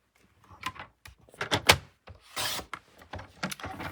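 A strip of paper is cut from a 6 by 5.5 inch sheet at 3/4 inch spacing, making a series of soft, close, scraping slices in short bursts with brief pauses between them.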